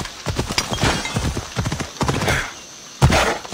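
Horse hooves gallop in Assassin's Creed Odyssey, a quick, steady clip-clop rhythm close by, with a brief whinny-like burst near the end.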